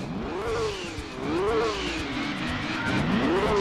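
Nissan GT-R race car engine from the Gran Turismo 2 video game, revving up and down through repeated rising and falling pitch sweeps, steady and fairly close, with no talk.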